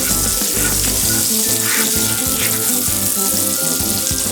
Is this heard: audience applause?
no